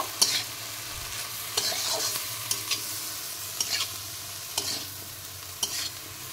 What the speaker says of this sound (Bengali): তো আবার আমি এবার নেড়ে চেড়ে মিশিয়ে নেব